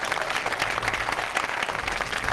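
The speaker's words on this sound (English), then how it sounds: "Give them a great round of applause" A crowd at a community evening event applauds local school board members and organizations, a full, even round of clapping from many hands that holds steady throughout without speech.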